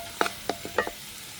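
Ginger garlic paste and green chillies sautéing in a pan, heard as a few quick stirring scrapes and soft sizzles spaced over a moment, close and fairly quiet.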